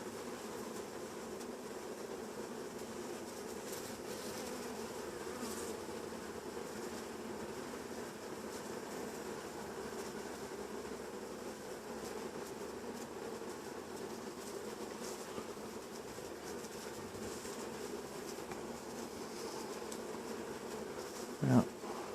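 Bees inside an open beehive during an inspection make a soft, steady droning hum throughout, faint and close, ending with a brief knock.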